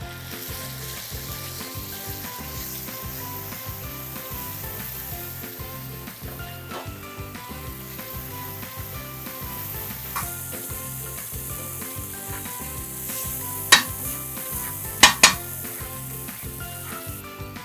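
Bangda mackerel with masala fries in a pan, a steady close sizzle running throughout, with a few sharp utensil clinks near the end.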